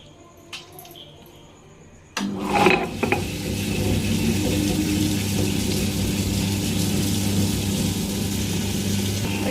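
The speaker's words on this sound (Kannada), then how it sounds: "ಫಸ್ಟು ಮೆಂತ್ಯನ ರುಬ್ಕೋಬೇಕಕ್ಕ." A wet grinder starts up with a clunk and then runs with a steady mechanical whir and watery churning as soaked fenugreek seeds are ground for methi dosa batter, preceded by a brief quiet stretch.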